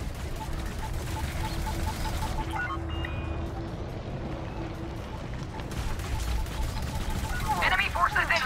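Dense, continuous weapons fire from a conflict zone battle in Elite Dangerous Odyssey, with the Scorpion SRV in combat. Rapid overlapping shots and bursts run steadily throughout under busy battle noise, with occasional voice lines over the din.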